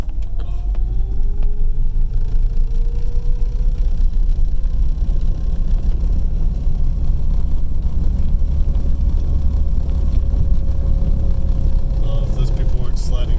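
Electric vehicle pulling away and driving on a snowy road, a steady loud low rumble with a faint rising whine and a constant vibrating drone throughout.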